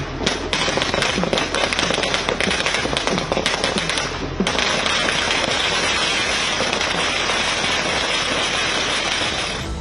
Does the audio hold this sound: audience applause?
no